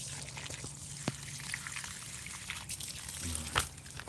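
Water from a garden hose trickles and splashes into large plant pots in a suburban yard, a faint uneven pour with scattered drips and a brief thump, under quiet surroundings.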